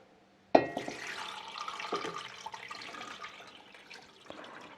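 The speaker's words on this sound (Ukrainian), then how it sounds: "заливаю холодною водою" Cold water suddenly gushes and pours steadily into a pot holding jars on a cloth, a sloshing, splashing stream that gradually settles over several seconds.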